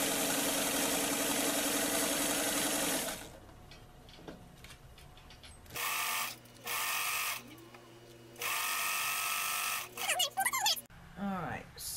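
A sewing machine stitching a fabric doll apron starts and stops in several short, close bursts of fast mechanical whirring, with quieter gaps between runs.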